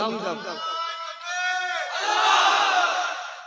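A large crowd at an Islamic sermon gathering beside a madrasa in Bhabanipur shouts takbir together, a loud, close wall of voices that rises and swells in unison over a few seconds.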